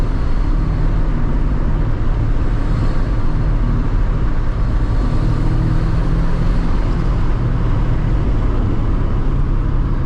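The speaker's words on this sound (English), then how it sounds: "you hear this turbo spin up" Turbocharged Mazda MX-5 NA Miata with Wilwood racing brakes on the move, heard from the cabin as a loud, steady engine drone with a whooshing rise in turbo spool layered over it, continuous throughout.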